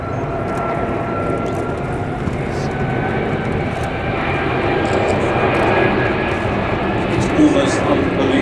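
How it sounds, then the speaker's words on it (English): Huge Airbus A380 airliner flying past at the Farnborough air show, a steady broad engine roar sustained throughout with no clear rise or fade, a commentator's voice talking over it. "This majestic flypast of this huge airliner."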